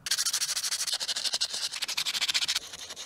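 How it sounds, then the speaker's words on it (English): Sandpaper rubbing back and forth on a BMW M2 headlight part in quick, steady strokes, close and loud, with a brief pause near the middle and a softer stretch at the end. "So now with a bit of sanding paper, we're gonna sand this down."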